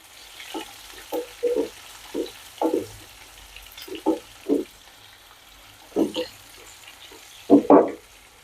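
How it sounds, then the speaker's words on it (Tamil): Ingredients sautéing in a pan for tamarind kuzhambu, with a steady run of short sizzling and stirring bursts, close by, recurring every second or so with quiet gaps between. "இப்போ பாருங்க, இது நல்லா வதங்கட்டும் ஒரு நிமிஷம்"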